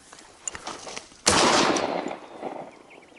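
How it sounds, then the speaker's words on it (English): A single loud hunting gunshot at a wild boar cracks sharply after a few faint rustles, its blast echoing and fading away over the next second or so. "The gunshot rang out"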